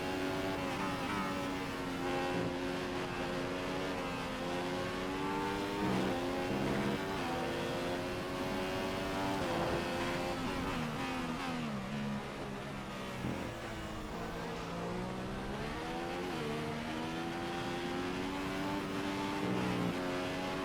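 Formula 1 race car engine in the F1 2015 video game at the Sepang circuit, a loud, continuous high-pitched engine whine whose pitch rises and falls through gear shifts and downshifts under braking.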